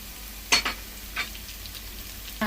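Green chillies, onion and curry leaves frying in a pan, a low, steady sizzle broken by a few sharp stirring scrapes, close and quiet.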